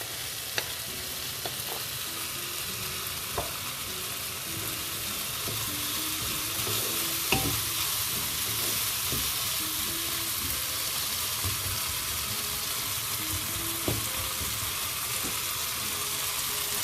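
Beans and carrots fry in a pan while being stirred, a steady, dense sizzle that holds evenly throughout, with occasional soft scrapes and taps of the spoon, close and with no speech.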